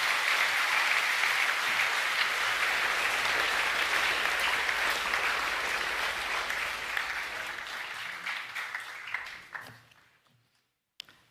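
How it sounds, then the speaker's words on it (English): A school assembly audience claps steadily for boys receiving awards, a broad even roar of hands that gradually thins and fades out near the end, leaving a few scattered claps. "Could we have a round of applause for those boys receiving credit?"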